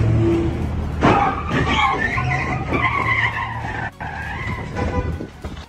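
A Mustang skidding after losing control on the road, loud tire squeal and engine noise up close with rough scraping and a jolt toward the end, captured on a dash cam.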